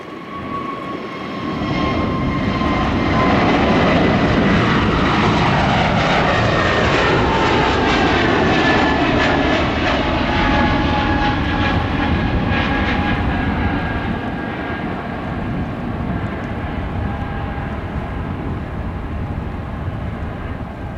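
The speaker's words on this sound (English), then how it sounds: "Runway 27 clear for takeoff" An airliner taking off from runway 27 at Gibraltar International Airport, a loud sustained engine roar that swells over the first few seconds and stays strong throughout, with descending whine tones as it passes and slowly fades.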